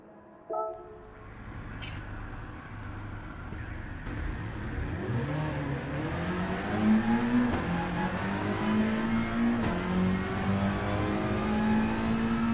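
A GR4 racing car engine in a sim racing game at the Nürburgring revs up through rising, whining gear pulls, growing louder after a brief opening thud, with no talk.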